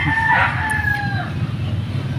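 A rooster crows once near the start, its long two-part call clear over the steady low hum of farm surroundings, with no speech.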